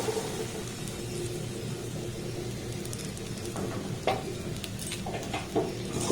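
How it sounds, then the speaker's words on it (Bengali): Vermicelli dropped into hot ghee in a wok, then stirred over a low gas flame: a steady close frying sizzle with occasional scraping and clinking of a spatula against the metal. "এবার এই সিমাইটাকে আমি এই ঘির মধ্যে দিয়ে দেব"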